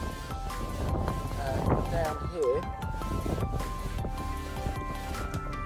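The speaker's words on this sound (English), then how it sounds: "It's very, very windy, so I don't know how well you're going to hear this." Strong gusts batter the microphone outdoors beside a damaged truck, a constant low rumble and buffeting running the whole time under a man's speech.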